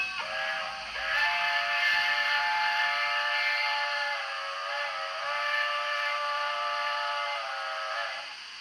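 A sustained, shrill steam whistle from a Hornby Flying Scotsman model train blows for several seconds with a slight waver in pitch, then cuts off.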